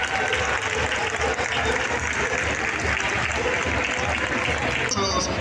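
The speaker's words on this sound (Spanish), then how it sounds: "Así que un fuerte aplauso también para Daniel." A large crowd at a fan welcome event for the 2022 Valencia MotoGP Grand Prix applauds loudly and steadily without a break, with a dense wash of clapping that thins slightly near the end.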